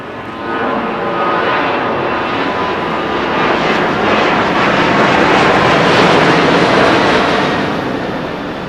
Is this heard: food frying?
no